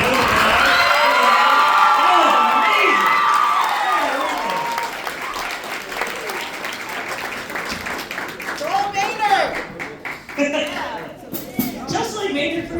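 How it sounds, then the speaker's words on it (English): Audience at a high school jazz ensemble concert in a jazz club gives loud, sustained applause with cheering and whoops; the clapping thins out partway through as voices and shouts take over. "Can we give one more hand round of applause?"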